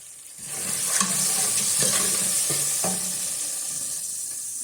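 Cloves and turmeric sizzle in hot oil in a pan for aloo methi pulao, a steady close hiss with a few soft spoon taps and stirring scrapes.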